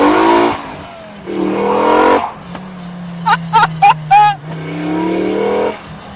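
Five-cylinder engine swapped into a Mk2 VW GTI pulls hard at full throttle, a loud rising drone with a few sharp pops and bursts midway, close to the car, with excited voices partly over it.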